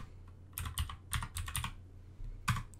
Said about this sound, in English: So I'm gonna type in blend in all caps.